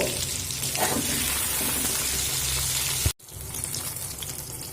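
Eggplant slices frying in oil seasoned with turmeric and salt give a steady, close sizzle that cuts out abruptly for a moment near the end, then resumes.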